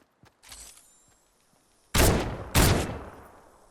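Thermal scoped AR fired in Fortnite, two loud, sharp close-range shots about half a second apart after a quieter earlier shot and some faint clicks.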